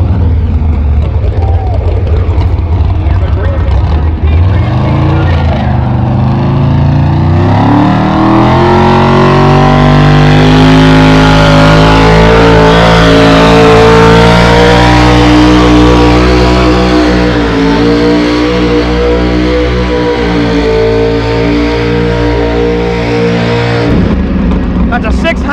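Pulling truck at a truck pull, its big engine roaring loud and close for the whole run, pitch climbing as it revs and strains under load, with a voice talking over it.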